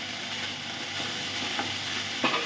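Chow mein sizzling and being stirred in a frying pan during home cooking, a steady close hiss with a few louder scraping stirs near the end.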